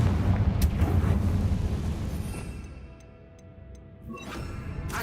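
A Confringo fire spell bursts in Hogwarts Legacy as a loud crackling blast over low rumble, fading to a quieter tail with faint ticking, then a second burst near the end.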